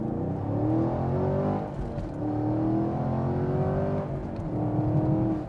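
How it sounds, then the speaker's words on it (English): A 2016 Chevrolet Camaro SS with its Corvette-derived V8 revs loudly through an optional dual-mode exhaust, rising and falling in sustained sweeps with a brief dip near the middle, close and alone without talk. "this specific Camaro is fitted with an optional dual mode exhaust system, and it allows that Corvette engine to make fantastic noises"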